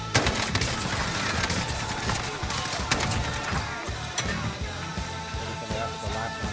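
Rapid bursts of automatic gunfire crackle nearly nonstop in a Call of Duty Warzone match, an AK-47 loadout among them, dense overlapping shots at a steady loud level.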